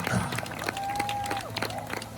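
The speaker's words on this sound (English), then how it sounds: "Please give a round of applause to our warriors of Aotearoa" An audience applauds Maori haka warriors at a Hawaiian luau show. Clapping and crowd noise go on steadily under a whistle-like tone and some voices.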